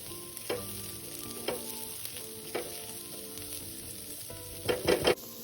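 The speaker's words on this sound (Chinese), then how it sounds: "接着再将备好的洋葱加进来，一起炒匀。" Onions stir-fried in a pan for a preserved-radish omelette give a steady sizzle, broken by several louder scraping stirs near the end, close and alone without voices.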